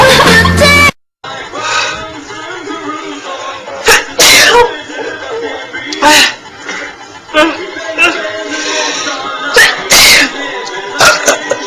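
A compilation of several sneezes from different people, loud sharp bursts spaced irregularly, some with short exclamations and laughter between them.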